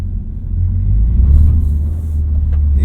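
A 2025 Toyota GR86 Hakone Edition with a six-speed manual drives along, its engine a steady low rumble inside the cabin that swells slightly midway, with no voices.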